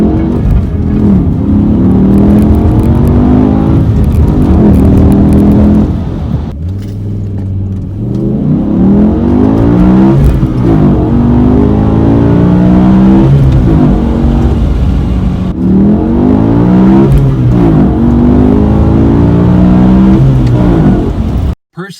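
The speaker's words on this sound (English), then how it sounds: "I figure some of you might like hearing that V10 wail." BMW E60 M5 with a V10 engine and six-speed manual gearbox accelerating hard, its loud wailing revs climbing through several gears with brief dips at each shift, close and continuous.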